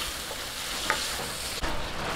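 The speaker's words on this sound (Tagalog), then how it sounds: "Haluin lang po natin hanggang mag light brown itong ating chicken." Chicken fries in a pan while being stirred, a constant close sizzle with a couple of soft scrapes and taps from the spoon, fairly loud and steady with no talking.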